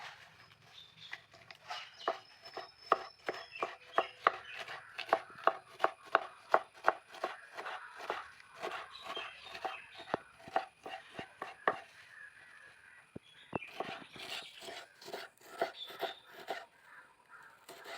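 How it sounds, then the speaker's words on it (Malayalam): Knife chopping washed pumpkin leaves on a board, a quick steady run of sharp taps that pauses and resumes, close and clear with crows cawing faintly in the background. "അപ്പോൾ നമ്മൾ കഴുകി വൃത്തിയാക്കിയെടുത്ത മത്തയില ഇവിടെ അരിയാനുള്ള തയ്യാറെടുപ്പിലാണ്."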